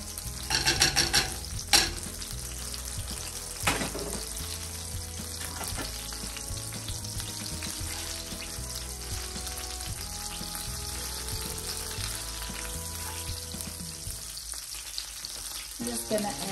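Shrimp sauté in a hot pan with a strong, continuous sizzle. Stirring and scraping are heard at the start, then the frying carries on steadily.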